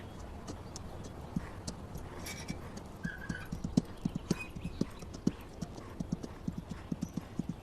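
Steady clip-clop of hooves as a horse walks, an even rhythm of hollow knocks close by, with a brief whinny-like tone partway through.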